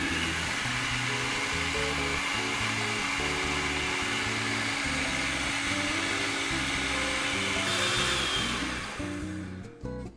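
Blender running on high, whirring loudly and steadily as it blends a papaya seed dressing, its motor pitch wavering slightly before it winds down and stops near the end.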